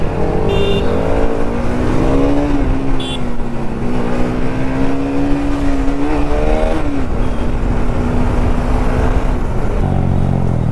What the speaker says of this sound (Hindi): ये देखो गाइस एग्जॉस्ट फ्लेक्स कर रहे हैं भाई